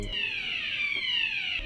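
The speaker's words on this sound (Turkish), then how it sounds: "Jose Mourinho konuşurken alarm çaldı." A stadium alarm sounds during a press talk with a football manager, a loud continuous electronic tone that glides slowly downward in pitch and holds steady with no talk over it.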